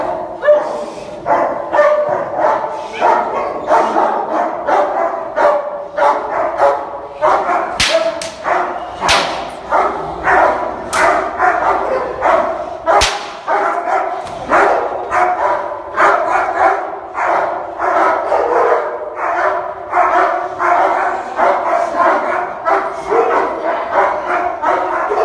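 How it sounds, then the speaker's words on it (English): Several young dogs bark and yip in rapid, overlapping bursts close by, a steady stream of sharp barks with occasional whimpers, continuing throughout with little pause. "But these dogs are proper young."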